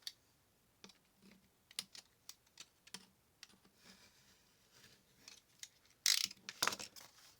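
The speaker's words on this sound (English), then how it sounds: "hold that ruler down real good and just cut right along that" A craft knife draws along a ruler through paper in a series of short, quiet scraping strokes and taps, close by, ending in a louder rasping cut.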